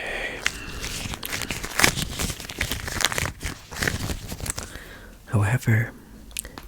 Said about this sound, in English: as you are munching on the chicken